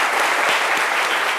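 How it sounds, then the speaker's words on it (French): Audience applause from a seated crowd, dense, even clapping at full strength with no voices over it. "on peut l'applaudir encore pour ça"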